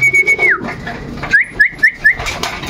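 Racing pigeons call outside their loft, a close, loud run of short chirping whistle-like notes and soft coos in quick rhythmic bursts, with no one speaking.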